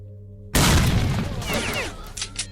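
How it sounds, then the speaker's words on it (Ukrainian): Grenade blast in S.T.A.L.K.E.R.: Shadow of Chernobyl, starting with a sudden loud boom after quiet, then a long rumbling decay with scattered crackling debris and faint distant pops trailing off. "Не дуже добре я кинув гранату."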